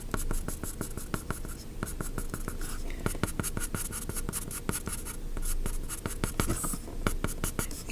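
A pencil scratches over paper in a horse drawing, with quick, rhythmic strokes and taps close up, dense and continuous, and no one speaking.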